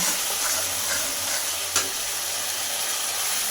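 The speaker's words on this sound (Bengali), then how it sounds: "জিরে ও ধনে বাটা দিয়ে আবারও কিছুক্ষণ কষিয়ে নেব" Cumin and coriander paste sautés in hot oil for an egg curry with potato and pointed gourd, giving a steady, even sizzle throughout with one brief clack of a spoon.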